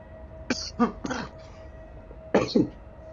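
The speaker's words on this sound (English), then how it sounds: "I'm clearing this cough out as we speak" A few short, close coughs and throat clears in two bursts, separated by a quiet pause, over a faint steady hum.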